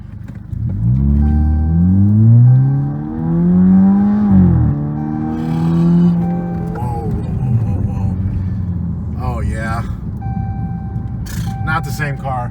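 A 2015 Chrysler 200 with a 2.4L engine and a Roar throttle controller accelerates hard, its engine note climbing through rising sweeps and a gear change, loud and close, with a few later clicks and beeps.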